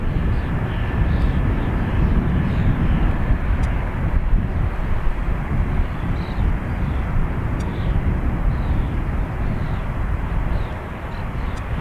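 An Aer Lingus Airbus A320, flight EI 604 to Amsterdam, departs Dublin Airport with a loud, steady jet-engine roar that holds for the whole stretch, with wind buffeting the microphone.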